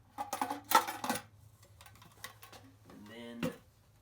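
Parts of an older Vitamix 3600 blender being handled in a box of household items at an estate auction, giving quiet clinks, knocks and plastic rattles in short, irregular bursts.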